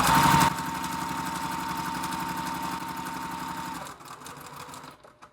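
A sewing machine stitches a quilt block with a fast, steady mechanical clatter, close and loud for about four seconds before slowing and stopping, leaving a few faint taps.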